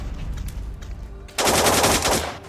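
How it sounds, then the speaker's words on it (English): Assault rifle firing in the blocky online shooter Blockpost, a rapid burst of sharp, close gunshots in the second half following quieter distant firing. "I just pulled off an excellent shot with the assault rifle across the map."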